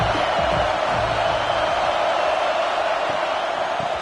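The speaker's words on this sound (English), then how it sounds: "this crowd is turning it up a notch" Football stadium crowd at a league game roars as one continuous loud, even wash of cheering and noise, with a few faint whoops.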